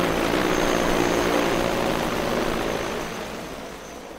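An agricultural spraying drone flies over a farm field, giving a loud, dense rotor whir and hiss that holds steady, then slowly fades as it moves away.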